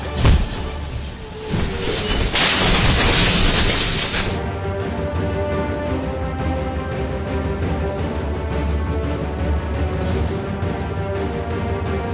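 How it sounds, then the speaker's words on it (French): A sudden loud blast erupts, followed by a long roaring rush of noise that fades into a steady rumbling, crackling background. "mais ils ont déclenché une explosion mémorable"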